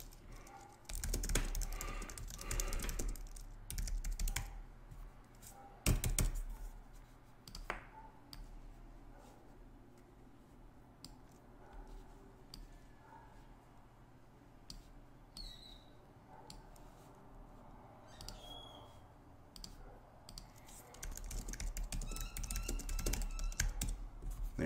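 Typing on a computer keyboard, a steady run of quick, light clicks and taps close by that thicken into denser bursts at the start and end, with no talk over it.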